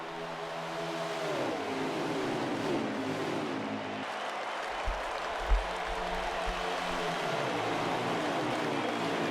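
Race cars lapping the Las Vegas track during an Xfinity Series race, a continuous roar of engines with a pack sweeping past and descending pitch, plus a few thumps midway, steady and moderately loud.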